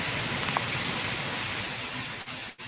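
Steady rain falling outdoors as a storm rolls in, a continuous dense wash of drops that stays loud throughout with two brief dips near the end.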